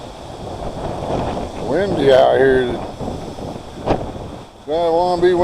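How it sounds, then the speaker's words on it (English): Gusty outdoor wind buffets the microphone on a homestead walk among chickens and ducks, rising and falling in rough bursts while a person talks over it. "Windy out here."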